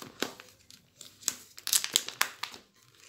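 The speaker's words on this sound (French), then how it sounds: "Je déballe tout ça." Packaging from an art kit is torn open and unwrapped, with irregular bursts of crinkling plastic and paper rustling close by, growing busier toward the middle before settling.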